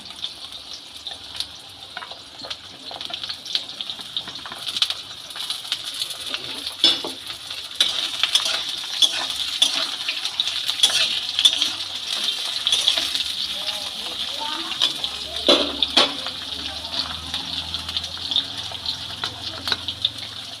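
Chopped eggplant goes into a pan of hot oil for shukto, a Bengali vegetable dish, giving a soft, even sizzle with scattered stirring scrapes and clatters.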